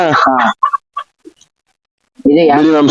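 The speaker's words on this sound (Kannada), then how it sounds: "ಕೋಳಿ ರೆಕ್ಕೆ ಹಿಡಿದ್ರೆ ಎಲ್ಲಾ ಸೌಂಡ್ ಬರುತ್ತದೆ" A native chicken held by its wings at a village market squawks in loud, harsh bursts, with short broken calls in between and a long gap of quiet before a final loud squawk.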